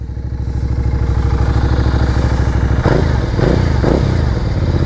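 Benda Napoleon 450cc belt-drive V-twin motorcycle with its stock exhaust pipe, idling loud and close with a throbbing, lumpy pulse, then blipped several times in quick succession for short revs.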